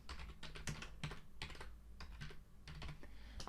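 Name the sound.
typing a chart title on a computer keyboard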